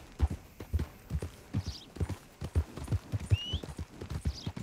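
Horse hooves clip-clop in a steady, quick rhythm as a rider travels in Red Dead Redemption 2, a soft, fairly distant gait heard alone with a faint hum.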